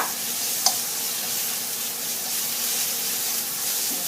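Curry paste being stir-fried in a hot pan for a soft pork bone dish makes a constant close sizzle and hiss. A single sharp clack of the utensil comes early on.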